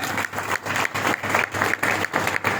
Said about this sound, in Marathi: त्यांच्यासाठी आपण टाळ्या वाजवून का